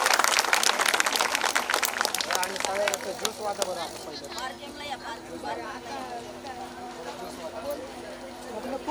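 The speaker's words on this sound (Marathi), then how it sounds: "एकदा स्वतःसाठी जोरदार टाळ्या वाजवा" A seated audience at a construction workers' rally claps loudly and densely at first, and the applause gradually fades into a room murmur with voices talking over it.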